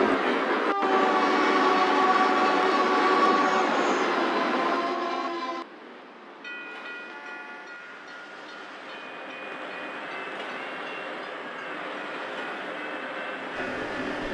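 Trains at Shinkansen Houston Station in the Trainz rail simulation game: a sustained horn-like tonal blast over rumbling rolling stock, then a quieter continuous hum and whine as trains wait, with no voices.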